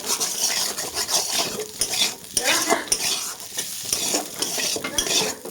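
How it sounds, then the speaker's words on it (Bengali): A spatula scrapes and stirs potato and neem leaf chechki around a pan, producing repeated clattering scrapes over a soft background sizzle, close and fairly loud. "আমি নাড়াচাড়া করে দিচ্ছি"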